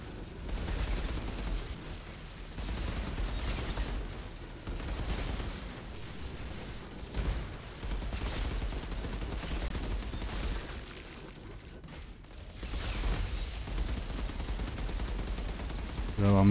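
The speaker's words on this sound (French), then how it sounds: "Vous pouvez aussi tirer quand même un peu." Gunfire from the video game Outriders Worldslayer sounds as a dense, continuous barrage of shots and rumbling impacts that stays busy throughout, with a voice talking over it.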